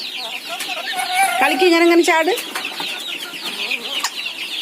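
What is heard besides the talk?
chicken clucking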